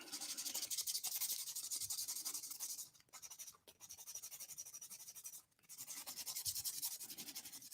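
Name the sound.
sanding car paint with sandpaper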